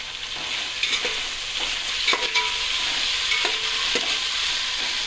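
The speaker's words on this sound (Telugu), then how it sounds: "ఉప్పు వేసుకొని ఒకసారి కలుపుకొని మూత పెట్టాలి" Salted vegetable pieces for veg biryani are stirred in a pan over a steady close sizzle, with several sharp spoon scrapes and knocks at uneven intervals.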